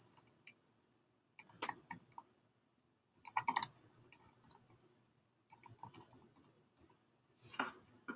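Someone types on a computer keyboard nearby, producing quick clicking clusters of keystrokes in three separate bursts with short pauses between them, fairly quiet and without speech.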